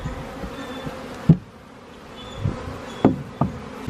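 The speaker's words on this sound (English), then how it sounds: "We just got bees flying all over the place." Bees from a large backyard swarm buzz close by, a faint steady drone under scattered sharp knocks and thumps.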